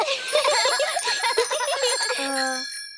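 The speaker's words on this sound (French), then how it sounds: "Pouvez-vous nous montrer que vous savez faire marcher votre sonnette?" Bell rings several times in quick bursts, bright and close, mixed with a voice before a final ring fades out.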